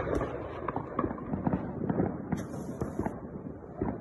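Consumer fireworks from a family pack pop and crackle in a rapid irregular burst of sharp reports at moderate distance, with a brief whistling streak partway through.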